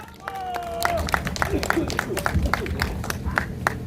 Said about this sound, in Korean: 더 힘찬 박수 부탁드리겠습니다.